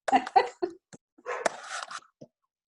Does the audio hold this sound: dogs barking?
yes